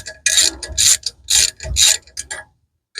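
A ratchet spins out small 10 mm factory bolts on a 2023 Kawasaki Teryx 4 exhaust, a rapid clicking in four or five loud, close bursts separated by short pauses.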